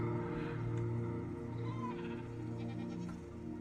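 Sheep and goat bleating in the Minecraft video game, a few wavering game-animal bleats over steady background music, moderately loud and without talk.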